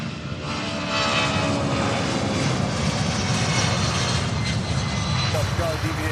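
An airplane at Louisville's SDF airport roars past, a loud sustained engine rumble and whine that swells after the first second and holds steady, with radio voices faintly underneath.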